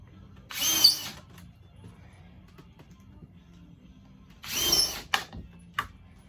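A power drill drives 1.25 inch screws into stair wood in two short close whirring bursts separated by a quiet pause, with a few small knocks after the second burst.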